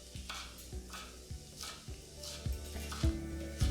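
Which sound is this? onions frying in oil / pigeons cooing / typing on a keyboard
onions frying in oil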